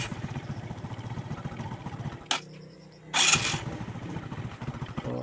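A motorcycle with a newly replaced starter idles with a loud, fast, chugging engine rhythm that briefly dips and cuts out. A sharp click follows, then a burst of higher noise as the engine picks back up and keeps running.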